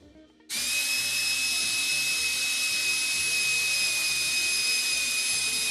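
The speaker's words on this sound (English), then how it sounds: "I'm gonna go ahead and start and drill holes." A power drill bores holes in wood for a table saw stand, starting abruptly after a short quiet moment and then running as a loud, steady, high-pitched whine without pause until the end.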